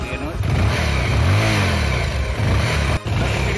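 A motorbike with a dead battery starts up and revs, its engine note rising and falling in a strong swell mid-clip, loud and close, with a brief dropout near the end.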